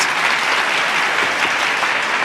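An audience at a 100th birthday ceremony at the University of Tehran claps loudly and continuously, with a close, even rush of applause and no talking over it.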